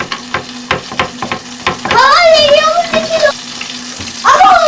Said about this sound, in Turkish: Zeytinyağını şimdi kızartacağız.